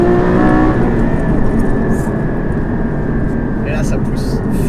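The engine of a Porsche Cayman GT4 revs up hard under acceleration in second gear. It climbs loud and close in a rising whine, and someone talks over it.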